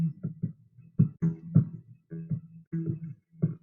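Looped parts in the Soundtrap music app play a sparse, low bass-and-drum pattern of short thumping notes with brief gaps between them, fairly quiet and clean.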